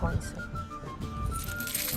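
Collectible metal coins from an unboxing spill onto a small table. A short jingling clatter comes at the start, followed by lighter clinks, with faint voices in the background.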